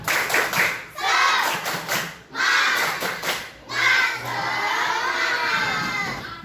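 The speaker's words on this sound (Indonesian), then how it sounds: "kita tepuk semangat dulu. Tepuk semangat." A class of schoolchildren performs the 'tepuk semangat' clapping chant led by their teacher: loud, close voices chant in unison in rhythmic bursts broken by short pauses, with hand claps mixed in.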